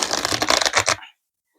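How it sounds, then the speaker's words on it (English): Tarot cards being shuffled: a quick, close riffle of rapid papery flutters lasting about a second, then silence. "So I'm going to take some tarot cards and see"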